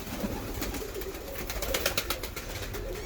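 Çayka pigeons coo among a breeder's young birds in a Turkish loft. Low murmuring coos run continuously with soft rustling and cage noise, close and moderately loud, with no talk.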